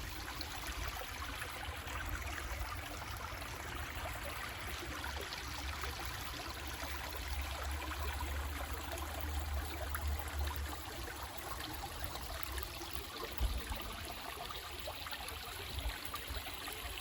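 A creek flows steadily and softly in the distance, a continuous faint wash of running water with no voices over it.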